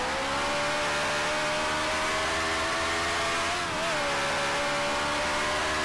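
Race car engine in the Grand Prix Legends racing game drones steadily at high revs for several seconds, dipping briefly near the middle as a shift occurs, loud and continuous with no voices.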